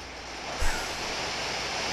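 Pikachu's Surf attack in a Pokémon game brings a loud rushing wave, a broad steady roar of surging water with a low thump near the start, heard alone.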